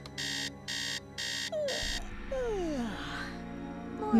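Nancy Drew game alarm clock beeping: four evenly spaced electronic buzzes in quick succession, loud and close, then cut off as a voice talks over gliding background tones.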